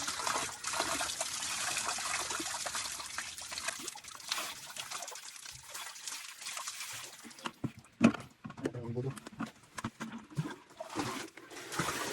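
Water trickles and splashes steadily for several seconds, then thins into irregular drips and gurgles, close and fairly quiet.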